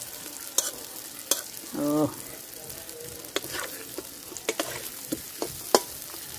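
A spoon scrapes and stirs pineapple frying in spice masala in a pan, with a soft steady sizzle, sharp clinks of utensil against metal, and a brief spoken syllable.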